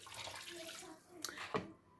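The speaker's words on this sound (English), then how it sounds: "To add some water in the meat." Water poured into a pot of meat being boiled for Sierra Leone jollof rice, a short splashing pour with a couple of louder sloshes near the end, close by and without talk.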